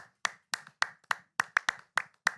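Canned applause sound effect played on a sports talk podcast: a quick run of about nine sharp, evenly spaced hand claps, close and dry, with no voices over them.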